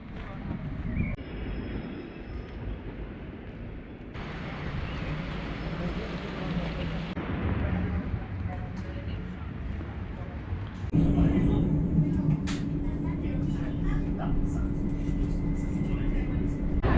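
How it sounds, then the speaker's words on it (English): A tram carries riders from Warsaw's Praga district back to the city centre, its rumbling ride noise shifting in character as the journey goes on, with a steady hum and occasional higher whines, while a voice talks over it. "We got the train back to the centre."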